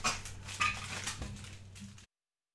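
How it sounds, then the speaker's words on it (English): A dog barks and whimpers in a few short yelps, fairly faint and distant as if through an open microphone, before cutting to silence. "I've just got your dog barking"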